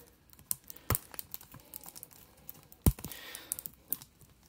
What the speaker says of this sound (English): Let's go ahead and just take the plastic wrap off here.